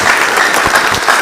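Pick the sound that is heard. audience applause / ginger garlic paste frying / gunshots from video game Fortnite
audience applause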